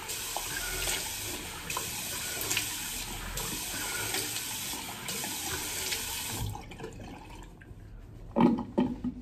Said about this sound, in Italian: tocchiamo un attimo due cose e il viso soprattutto con acqua fredda